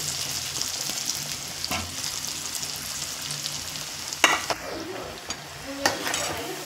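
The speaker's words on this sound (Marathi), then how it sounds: "तळून घेऊ आपण राहिलेले कोथिंबीरीच्या वड्या सगळ्या." Coriander vadi (kothimbir vadi) frying in hot oil in a pan, a steady sizzle and crackle with occasional sharp clinks of a utensil against the pan, close and clear without talk.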